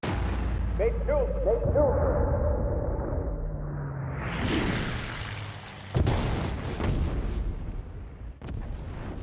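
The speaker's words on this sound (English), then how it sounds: "A friendly missile hit him." Missile strike on an aircraft in Ace Combat 7 during an air combat mission, with engine drone and radio chatter giving way to a loud booming explosion and crackling blast noise, followed by further sharp bursts.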